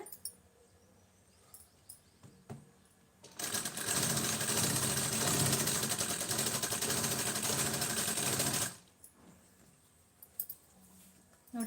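A sewing machine stitching a fall onto the border of a saree runs in one steady, loud, continuous whirring burst of several seconds, with quiet handling noises before and after.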